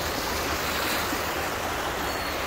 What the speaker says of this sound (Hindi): कितना भयंकर पानी आ रहा है आई की पार